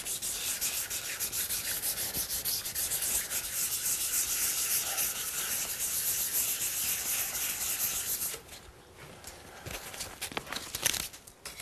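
Wood is rubbed by hand with fine 600 grit sandpaper in a steady, close, raspy back-and-forth for about eight seconds, then the sanding stops and a few light scuffs and handling noises follow.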